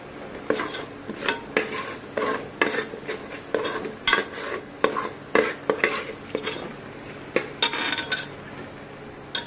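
Agri-style masala being roasted in oil in a pan, with steady repeated scraping and stirring strokes over a soft background sizzle, close and fairly loud, occasional clinks of the utensil against the pan.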